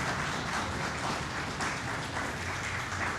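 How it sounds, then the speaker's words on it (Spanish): Audience applause after an engineering lecture on cost engineering, a moderate, even patter of many hands clapping that continues steadily without any talk. "Fuerte aplauso."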